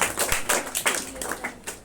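Scattered, thin clapping from a few students in a Sanskrit classroom, a handful of separate irregular claps, fairly faint and close.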